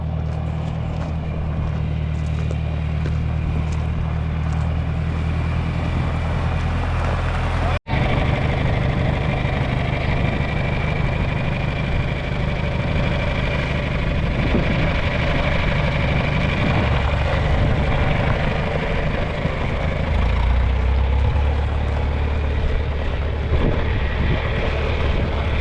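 Old John Deere tractor engine runs steadily with a synchro transmission, a loud continuous low rumble with wind buffeting the microphone throughout and a brief cut partway.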